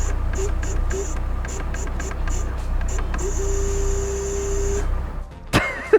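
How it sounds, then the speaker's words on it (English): A LADA Niva's power steering pump buzzes at full steering lock, pulsing in short repeated bursts and then holding a steady whine over an engine hum, before stopping with a sharp knock. "The power steering pump seems to make a weird buzzing sound when you turn the steering wheel on full lock"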